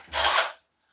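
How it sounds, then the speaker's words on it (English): A short, rough rasping burst of abrasive sanding on a dieback ash wooden bowl, lasting about half a second before cutting off to silence. "Let's get sanding."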